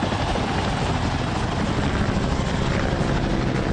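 A big helicopter flies low overhead with a loud, continuous rotor roar. The broad, pulsing thrum holds steady and dominates throughout, with no voices.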